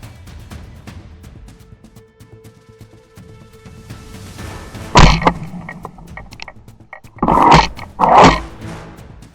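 Hunting hounds attacking a wild boar, with several loud growling, snarling bursts breaking out over quieter background noise, close and aggressive.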